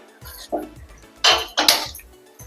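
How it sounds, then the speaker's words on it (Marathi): A metal wok is set down on a gas stove with a couple of clanking knocks, close by, amid faint kitchen clatter. "कढई ठेवते गॅसवर"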